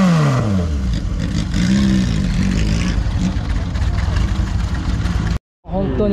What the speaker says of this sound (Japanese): エンジンをかけてアイドリングと軽く吹かした音をお願いしたいんですけども